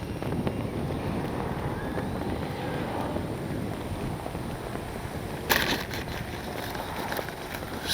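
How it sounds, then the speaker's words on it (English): Steady roaring wind buffets the microphone at an RC jet flying session, a constant rumbling rush with a brief sharper gust near the end; no voices. "it's just so windy"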